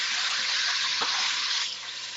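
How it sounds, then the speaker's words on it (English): Chicken pieces sizzle in a hot soup pot, a steady loud broadband hiss that holds throughout and eases slightly near the end. "You hear it sizzling? That's what you want to hear."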